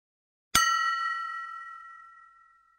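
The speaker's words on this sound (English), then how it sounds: "Now hit it with the spoon with a little more force to see how far the ball bumps from the glass." A spoon strikes a drinking glass harder once, giving a bright, sharp ding that rings on clearly and slowly fades over about two seconds, alone and close.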